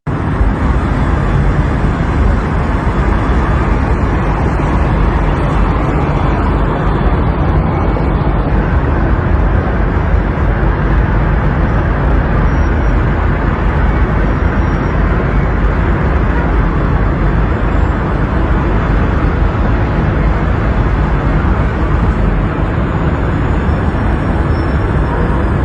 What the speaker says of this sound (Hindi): यहाँ पे आप देख सकते हैं पूरा हाईवे के ऊपर ट्रैफिक जाम किस तरह से हो गई थी